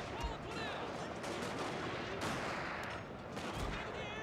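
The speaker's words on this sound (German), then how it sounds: "die schießen auch schon wieder auf uns" Musket and rifle fire crackles continuously in a Total War: Shogun 2: Fall of the Samurai battle, a dense, steady fusillade of overlapping shots with occasional sharper reports standing out.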